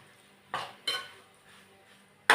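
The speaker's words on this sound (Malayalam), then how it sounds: "ചോറിട്ട് ഇളക്കി." Cooked rice being stirred with chopped tomato in a pan, giving a few distinct scraping, clattering strokes of a spoon against metal, with quiet gaps between them and one sharp knock at the end.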